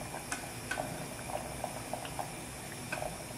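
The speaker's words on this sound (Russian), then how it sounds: "Все, соус начал булькать." Sauce bubbles gently in a pan as it heats toward a boil, giving a steady run of small irregular pops and blips at close range with no talk.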